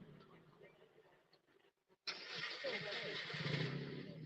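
An off-road rock-racing car's engine bursts into a loud, rough, sustained roar as it reverses, following a quieter stretch of talk and faint mechanical noise.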